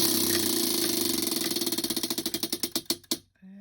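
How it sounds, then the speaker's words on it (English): A prize wheel spun by hand, its rapid ticking clatter slowing steadily into spaced clicks before stopping, then a short tone at the end. "so I will spin the wheel for tomorrow"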